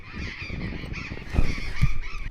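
A flock of green parrots with reddish beaks flying overhead in a desert canyon region, giving loud, harsh, continuous squawking calls with a couple of sharper bursts.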